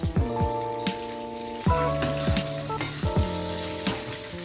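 A utensil stirs ivy gourd with salt and turmeric in a metal pan, striking it several times. Each hit leaves a clear metallic ring that fades out, over a soft frying hiss, with no voices.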